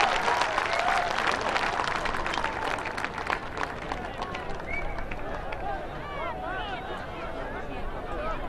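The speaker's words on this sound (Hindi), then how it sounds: "तालियों की गड़गड़ाहट से स्वागत करें माननीय प्रधानमंत्री जी का।" A large outdoor crowd at a Prime Minister Narendra Modi rally in Assam applauds and cheers steadily, a dense wash of clapping that swells at first and then thins slightly, with babble mixed in.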